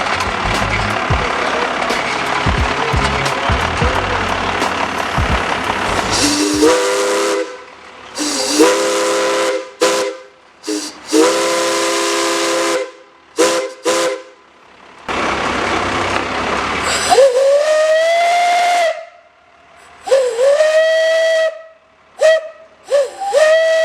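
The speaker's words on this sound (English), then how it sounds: "we got the chance at blowing the whistle" At Williams Grove Railroad in Mechanicsburg, a steam locomotive's whistle blows loud and close in a series of long and short blasts separated by brief silences, after a stretch of hissing steam and rumble.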